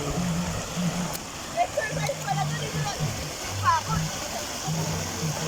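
Strong river current rushing at an outdoor riverside spot in Daraitan, Tanay, a steady watery roar with splashes throughout, while people talk and call out over it.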